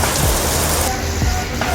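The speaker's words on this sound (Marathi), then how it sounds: "हा तुफान गतीने बरसणारा पाऊस" Heavy monsoon rain pours down in Panvel, a dense, loud, continuous rush of drops with no pauses.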